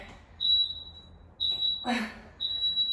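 A high electronic workout timer buzzer sounds three times in sustained tones, loud and close, with a short breathy sound between the second and third.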